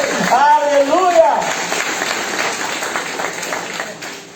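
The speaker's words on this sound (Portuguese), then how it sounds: "Você pode aplaudir o Senhor Jesus?" A church congregation applauding in praise during a sermon, a brief burst of clapping and voices at the start that quickly thins into a low, diffuse crowd murmur with some reverberation.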